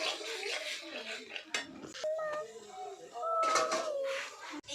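Onion and spice masala frying in a pan for a duck meat curry, with a metal utensil repeatedly scraping and clattering against the pan in irregular bursts close by, with voices faintly in the background.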